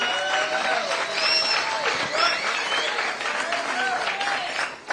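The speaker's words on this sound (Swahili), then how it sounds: "Now Samson Wawero, kuja hapa, tumpigie makofi." A crowd applauds steadily for several seconds, dense clapping near and loud, with voices calling out over it.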